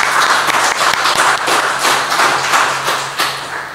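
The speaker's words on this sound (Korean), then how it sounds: "감사하시며 박수하시겠습니다." A church congregation claps together in a steady, sustained burst of applause, dense and fairly loud throughout, with no voices standing out.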